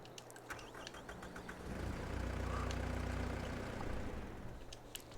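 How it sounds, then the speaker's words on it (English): A 98-horsepower Antonio Carrara tractor engine in Farming Simulator 22 idles, then rises into a heavier, fuller low drone for a few seconds before easing back, faint and alone. "Sounds a little beefier because it's 98 horsepower."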